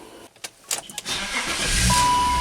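A BMW X5 with a misfire problem starts up, with a few clicks and a cranking burst followed by a steady engine idle that builds into a loud, continuous hum close to the microphone.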